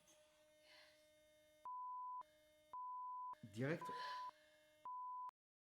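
A robot gives long steady electronic beeps after a button press, repeated several times with short gaps, while people talk over the first part.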